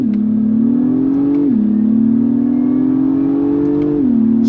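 A 2023 Acura MDX Type S in Sport Plus pulls hard from a stop, its engine revving loudly and rising steadily, with two quick paddle shifts from the 10-speed automatic dropping the pitch briefly before it climbs again.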